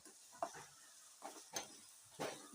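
Beef pickle masala frying in oil, quiet sizzling under a handful of stirring scrapes against the pan at uneven intervals, faint and close, with no voices.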